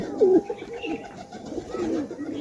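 Malbai pigeons coo in two soft, throaty calls, one at the start and another near the end, close by and fairly clear over a quiet background.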